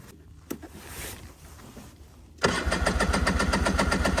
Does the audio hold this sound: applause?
no